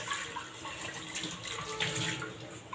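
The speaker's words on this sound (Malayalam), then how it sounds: "വെള്ളം ഒഴിച്ച് കഴുകാം" Water runs and splashes steadily into a frying pan being washed, a soft continuous trickle at close range.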